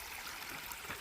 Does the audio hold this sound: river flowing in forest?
yes